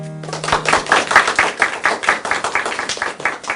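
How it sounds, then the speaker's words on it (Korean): A lecture audience claps together in a brief round of applause, a steady patter of many hands close by that rises and then thins out. "박수가 참 인색하시네요"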